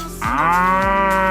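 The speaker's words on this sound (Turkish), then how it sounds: "İnek." A cow lets out one long, loud moo that sets in after a brief quiet start and holds steadily to the end, heard alone and close with no speech.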